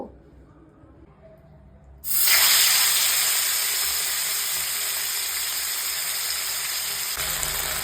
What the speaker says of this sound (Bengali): মাছটাকে আমি হলুদ আর লবণ দিয়ে মাখিয়ে রেখেছিলাম এবার আমি মাছটাকে ভেজে নেব